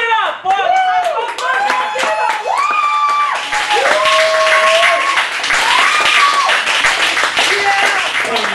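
Audience at a cabaret in Chicago applauds and cheers for performer Kottyn Campbell, sustained clapping blended with whoops and shouted voices, loud and close throughout with tonal vocal cheers rising above the noise.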